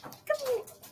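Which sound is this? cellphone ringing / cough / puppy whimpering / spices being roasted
puppy whimpering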